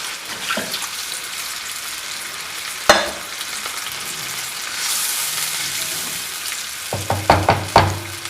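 A glass of water poured into a besan curry base frying in a pan, steady hiss and sizzle with a sharp clatter, later a few clinks and splashes of water hitting the hot pan.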